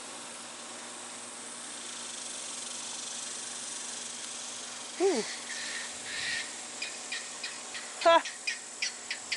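A steady, high-pitched drone of cicadas buzzing outdoors throughout, with a brief shout and several sharp chirps cutting in near the end.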